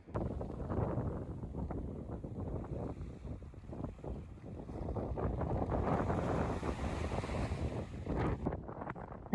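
Steady wind rushing across the microphone with surf washing in and out at Atami Sun Beach, a quiet winter seaside in Japan, continuous and fairly loud with no voices.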